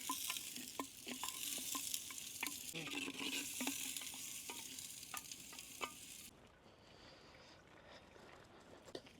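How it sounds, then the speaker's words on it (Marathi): Onion fries in oil inside a clay pot for chicken matka biryani, a bright steady sizzle with rhythmic spoon scrapes and knocks against the earthenware, easing into a quieter hiss near the end. "कांदा टाकून घेऊ आता।"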